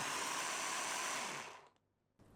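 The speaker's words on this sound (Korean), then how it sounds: "믹서기에 넣고 갈아주세요." A blender whirs loudly with a rough grinding roar, grinding kimchi seasoning of pear, glutinous rice paste, salted shrimp and anchovy sauce, then spins down and stops, leaving a quiet background hum.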